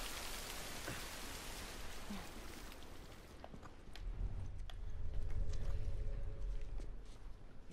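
Steady rain falls in The Last of Us video game, a dense hiss of drops on surfaces that thins and gives way to a deeper rumbling wash as the scene shifts, with no talk.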